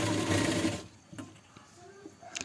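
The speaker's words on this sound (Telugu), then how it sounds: "నేనైతే పైన కుట్టు వేసేసుకుంటున్నాను." A sewing machine runs a top stitch on a blouse in a quick, loud burst of rapid stitching, then stops, leaving only faint handling noises.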